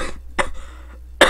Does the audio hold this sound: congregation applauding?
no